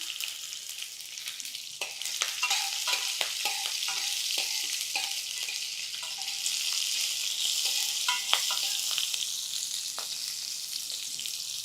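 Tempering spices and sesame seeds splutter in hot oil in a pan, giving a steady sizzle broken by rapid, irregular popping crackles close by, with no speech.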